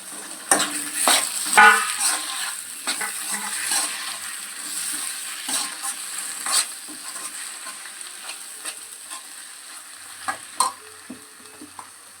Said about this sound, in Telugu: కొంచెం ఉడికింది కదా ఇప్పుడు టమాటీలు వేస్తున్నాను